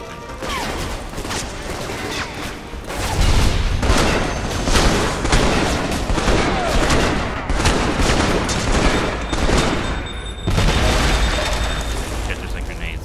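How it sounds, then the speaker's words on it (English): Video game grenades going off in a constant barrage of booms and blasts, loud and dense, overlapping with gunfire-like crackle for the whole stretch, with no clear break. "there's, like, grenades going off and hurting me very badly"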